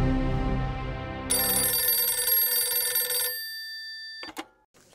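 Old-style telephone bell ringing loud and close in an indoor scene, a sustained metallic trill that cuts off abruptly, followed by a handset being picked up.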